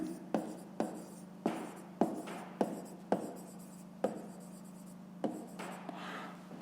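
Pen strokes scratch across paper as a fraction is written by hand for a fifth-grade maths exercise, a series of short separate taps and scratches in a steady rhythm, close and quiet, with no talking.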